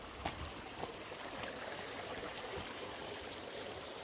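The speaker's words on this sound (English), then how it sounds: "I got a little water crossing here." Shallow stream water flowing across a trail crossing near Mount Shasta, a soft continuous trickle and burble heard close and fairly quiet, with a few faint knocks and no talk.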